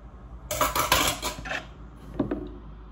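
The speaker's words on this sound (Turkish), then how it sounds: "Bir tatlı kaşığı chia tohumu döküyorum" A dessert spoon of chia seeds is poured during home preparation of yogurt oats and granola, giving a short gritty rattle for about a second, then a couple of faint clinks from the spoon and dish, with no voices.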